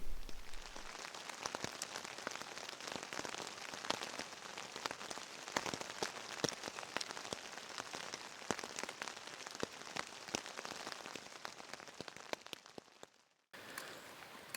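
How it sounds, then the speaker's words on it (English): Steady rain pattering at a wilderness campsite in Algonquin in the evening, a dense continuous patter with scattered louder drops, heard alone and fairly soft, briefly dropping out near the end. "last night it was raining on and off pretty much all evening and night"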